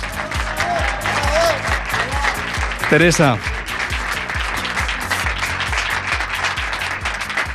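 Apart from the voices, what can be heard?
audience applause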